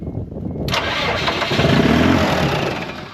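A car with an electronic fuel pump, sitting unused for four years, cranks briefly and then fires into a loud, rough, steady running engine, heard close up with no talking.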